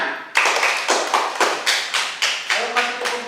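A classroom of students claps together in a steady rhythm, about ten loud, even beats in quick succession, close and clear with no voices over them.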